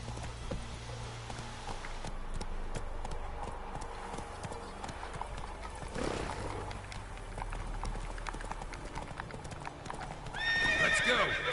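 Roach, a horse in The Witcher 3 on PS5, clip-clops in a steady run through most of the stretch, then gives a loud neigh near the end.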